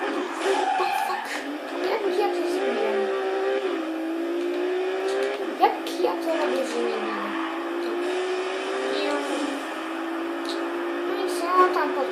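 A Ford Shelby pushed at high speed in Need for Speed, its engine whining in a rising tone that climbs and shifts through gears, moderately loud beneath someone talking over it.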